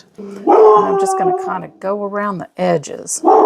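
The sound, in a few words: dog barking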